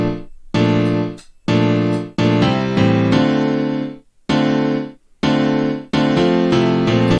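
Piano chords in a simple progression, each one struck loud and sustained, with short silent gaps between several changes; no one speaks over it.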